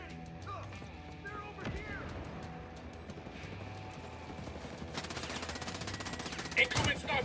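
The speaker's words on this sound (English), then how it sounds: "Incoming sniper fire!" Sniper gunfire in the tactical shooter Ghost Recon Breakpoint, with sharp shots cracking over a busy game soundscape, a dense burst of fire near the end, and muffled voices faintly underneath.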